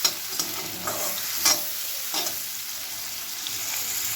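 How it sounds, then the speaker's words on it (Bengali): Shrimp frying in a pan while being stirred for a potol-chingri dish, a steady hiss of oil with a few soft scraping stirs, close and alone with no talk. "চিংড়ি মাছটা আমার ভাজা হয়ে গেছে"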